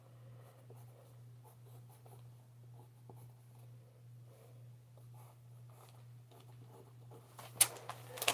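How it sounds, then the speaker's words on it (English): A pen or pencil drawing a house on paper makes faint, soft scratchy strokes in an irregular rhythm over a steady low electrical hum, ending with a few louder rustles and taps. "I'm gonna draw a house this time"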